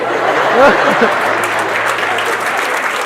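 A live audience claps in a dense, steady roar that carries through the whole stretch, with a few voices and light laughter mixed in.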